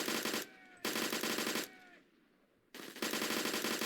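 Rapid automatic gunfire in the shooter game BRM5, loud bursts of roughly a second each broken by short pauses and fading tails, with no talk over them.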